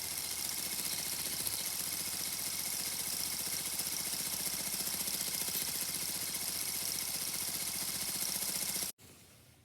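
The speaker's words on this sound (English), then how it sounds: "Pump number 4, testing with small actuator. Testing with large actuator." A small LEGO pump, number 4, drives an actuator with a steady, even mechanical whir and hum that runs continuously at moderate loudness, then cuts off abruptly near the end.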